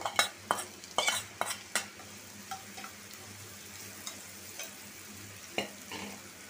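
Onion, garlic and green chilli frying in oil in a home kitchen, a soft continuous sizzle with sharp clinks of a spoon stirring against the pan early on, then quieter occasional scrapes.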